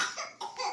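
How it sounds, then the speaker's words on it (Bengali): A short burst of two or three dry coughs from a person, close and fairly quiet, with no speech. "এমন করতেই যে কাশি শুরু হয়ে গেছে।"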